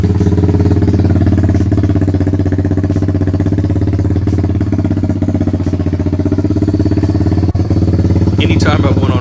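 A Honda 300 Fourtrax 4x4 ATV fitted with a 3-inch cherry bomb glass pack exhaust idles with a loud, deep, steady burble, close by and continuous, with a faint clatter near the end.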